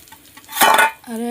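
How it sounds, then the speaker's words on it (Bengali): A utensil scrapes and clinks once against a pan of frying fish, a brief close clatter with faint sizzling around it. "আরও একবার নাড়াচাড়া করে দিচ্ছি।"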